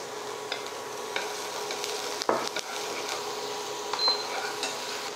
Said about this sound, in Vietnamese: Khi dầu nóng, chúng ta cho một chút tỏi băm nhuyễn vào.